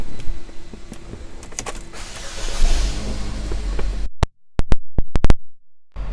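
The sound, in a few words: power moonroof of a 2016 Buick Verano operating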